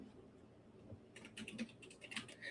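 Quiet typing on a computer keyboard, a soft run of rapid key clicks that starts after a near-silent pause and continues in uneven bursts.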